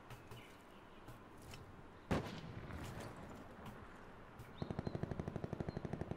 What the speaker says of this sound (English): I can hear a sniper rifle